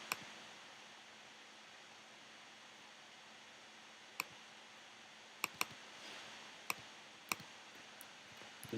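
A computer mouse gives a handful of sharp, isolated clicks at uneven intervals in a quiet room with a faint background hiss, the clicks clustering toward the end.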